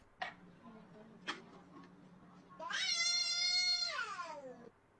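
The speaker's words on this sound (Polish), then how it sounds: "Ale że kota nadepła dla kontentu?" A house cat lets out a long, drawn-out, loud meow after being stepped on, preceded by two short sharp clicks in an otherwise quiet room.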